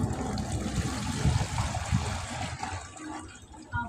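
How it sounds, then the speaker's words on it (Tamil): Water gushes and trickles out steadily while a fish tank's water is being changed, a close, continuous splashing pour with no talk over it. "என்னடா இதுல இருந்து தண்ணி ஊத்துது."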